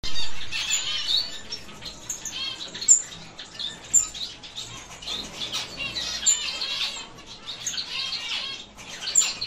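Gouldian finches in an aviary give a busy series of sharp chirps and squeaky calls, with some wing flutter, close by and fairly loud against a quiet background.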